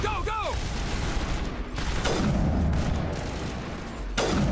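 Gunfire in the video game Mass Effect 1 Legendary Edition, with loud booming shots and sharp cracks over dense continuous battle noise, along with a brief rising electronic whine near the start.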